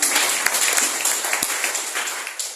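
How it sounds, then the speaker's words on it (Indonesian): A church congregation bursts into sustained applause, many hands clapping loudly and densely for a few seconds, with scattered sharper claps standing out before it thins slightly at the end. "Tepuk tangan untuk Tuhan."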